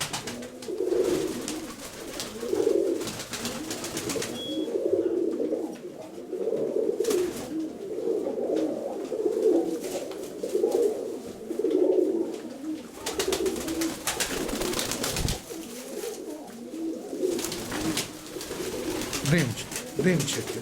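Pigeons coo in repeated low, rolling phrases at a steady rhythm, close by, with some voices and soft rustling in the background.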